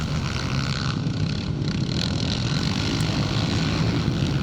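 A CCM motorcycle races at a scramble, its engine giving a continuous loud, rasping drone with a steady rumble and no speech over it.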